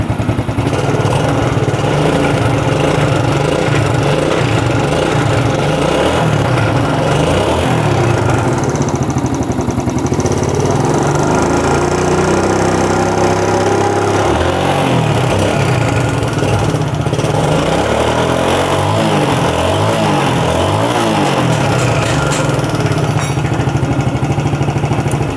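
A Suzuki Vega ZR motorcycle engine with a skipped timing chain and lost compression runs continuously, loud and close, with an uneven mechanical churning running through its steady idle.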